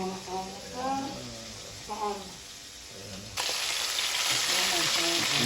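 Fish fries in hot oil for a lunch dish, first under people talking, then a loud, dense, continuous sizzle that takes over and stays strong to the end.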